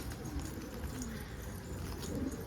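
An escaped domestic pigeon coos softly, with low, throaty repeated calls that are faint and somewhat distant under a steady hiss of background noise.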